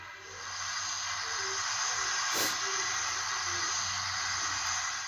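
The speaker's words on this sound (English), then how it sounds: "F4 is steam release." A Bachmann ALCO 2-6-0 DCC model steam locomotive gives a steady hiss of steam release that lasts about five seconds, close and fairly loud over a faint low hum.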